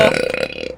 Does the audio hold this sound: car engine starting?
no